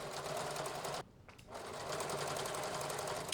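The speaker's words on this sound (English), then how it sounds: "we're stitching the binding to the seam allowance. And I'm stitching right on the edge here." A sewing machine understitching jersey binding to the seam allowance at a wrap dress neckline runs as a steady close whirring hum, pauses briefly, then resumes at full speed.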